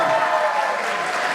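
Students clap together in a brief burst of applause from an indoor crowd. It is dense and steady for just over a second.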